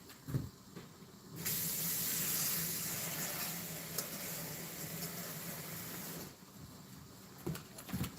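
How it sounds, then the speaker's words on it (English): Tap water runs into a pot in a steady, hissing rush that lasts about five seconds before cutting off, close by and moderately quiet, with no talking. "And fill this with water."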